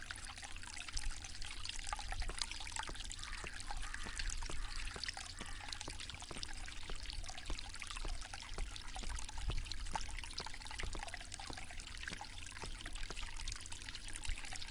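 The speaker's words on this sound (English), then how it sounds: "This fountain makes a very relaxing sound." Water splashing steadily from a garden fountain in the Agatha Christie ABC Murders game, a continuous close trickling patter with no talk.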